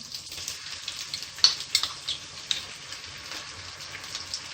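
Steady sizzling and crackling of garlic-ginger paste frying in hot oil with onions, with small pops scattered throughout and no voices.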